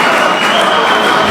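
A wrestling crowd at a singles match at King of Switzerland V bursts into loud, sustained applause and cheering, a dense wall of clapping filling the whole moment.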